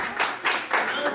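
An audience at an anime convention game show claps and cheers in rapid bursts, with voices mixed into the applause.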